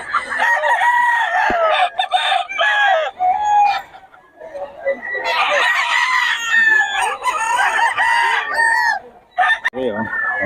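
Roosters and hens from a Tornado Hats bloodline gamefowl breeder crow and cluck loudly and close by, with several overlapping crows and cackles, while someone talks intermittently in the background.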